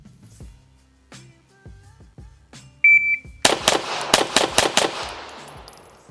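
Glock 34 pistol fitted with a Johnny Glock combat competition trigger and minus connector, fired in a rapid string of about six sharp, loud, close shots after a brief beep and some quiet handling clicks.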